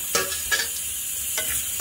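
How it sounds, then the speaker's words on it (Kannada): Small prawns frying in a pan, a steady sizzle under a few soft stirring scrapes, close and fairly quiet, with no voices. "ಈ ಸೀಗಡಿನ ಜೊತೆಗೆ ಹಾಕಿ ಫ್ರೈ ಮಾಡ್ಕೊಳ್ಳೋದು."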